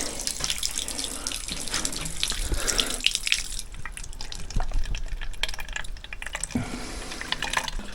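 Cold spring water running from a roadside source and being collected into a container, a close steady splashing and gurgling with shifting pitch as the vessel fills.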